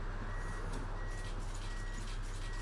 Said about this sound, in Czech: Fakt mi z toho pípání docela hrabe.